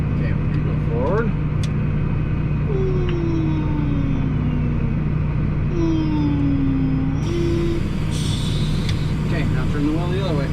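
A tractor engine rumbles steadily and loudly as the vehicle drives forward, with a constant low drone throughout and a few squeaks and background noises on top.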